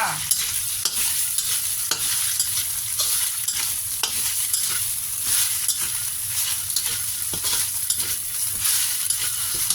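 Loud, steady sizzling of minced fish stir-frying in a hot wok, with repeated scraping strokes of a spatula stirring throughout.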